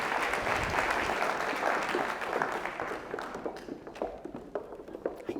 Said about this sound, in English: let's give all 5 of these people a nice round of applause